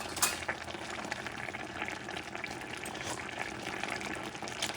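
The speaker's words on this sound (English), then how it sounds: "You're going to let it simmer." Fish stewing in tomato sauce in a pot, with a steady bubbling simmer and soft crackle holding at a low, even level with no talking.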